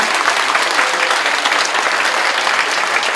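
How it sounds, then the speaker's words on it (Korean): Loud, sustained audience applause at an award ceremony honouring a model soldier, many hands clapping in a steady, dense roar from start to finish without talk. "모범병사 옥태견 씨에게 힘찬 격려의 박수 부탁드리겠습니다."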